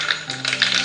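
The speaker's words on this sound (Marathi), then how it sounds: "तिकडे तेल सुद्धा तापलेलं आहे. आता त्यामध्ये मी टाकते मोहरी" Mustard seeds splutter and pop in hot oil while vada sambar is cooked, a quick run of sharp, close crackling taps over a faint background hiss, under a second long.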